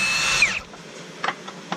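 A power tool whirs briefly while unbolting the drive shaft carrier bearing on a 1997-2001 Honda CR-V during a lift kit install. A short high whine winds down, then a few faint clicks and knocks follow.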